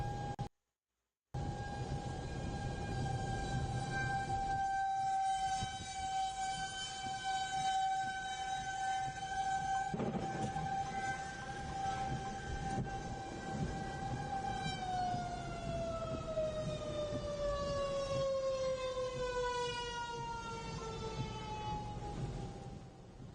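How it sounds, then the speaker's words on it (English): A wailing outdoor tornado siren in Lubbock sounds continuously, its tone holding steady and then sliding gradually lower, loud with a faint background rumble and no talk. "you can hear the sirens going off on the west side of Lubbock right now"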